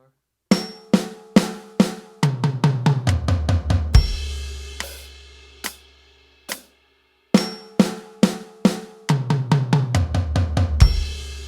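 Acoustic drum kit fills played in two passes, each a burst of rapid tom and snare hits ending in a deep crash and low boom, then sparse hi-hat clicks counting time between; loud, close and without talk.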